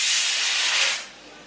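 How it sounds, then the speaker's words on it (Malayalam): A pressure cooker cooking chickpeas lets out a loud, close burst of hissing steam from its whistle, holding steady for about a second before dropping away to a softer residual hiss. "അപ്പൊ കടല വറക്കാൻ ഒരു വിസില് വന്നു, ഒരു വിസില് കൂടി വരട്ടെ."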